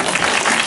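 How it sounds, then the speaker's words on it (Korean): Audience applause from a crowd at a film screening guest talk, dense and steady, filling the whole short moment with even clapping. "박수로"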